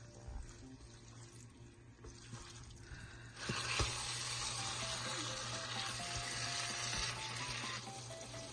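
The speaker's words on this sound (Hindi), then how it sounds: "भिंडी को डालकर अच्छी तरीके से मिक्स कर लेंगे और 3 से 4 मिनट के लिए पका लेंगे" Okra (bhindi) added to a hot pan and stirred, a steady sizzling hiss that jumps louder partway through and then holds, with faint scraping underneath.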